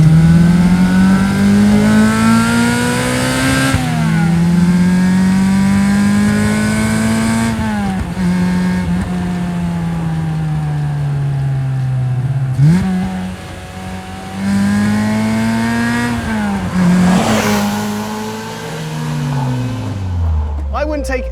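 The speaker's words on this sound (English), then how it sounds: "I'm just gonna drive my little hand-built British sports car for a second." A Lotus Elise, a hand-built British sports car, drives and revs, its engine note climbing through repeated gear pulls and dropping at each shift, loud and close from inside the car, with someone talking over it.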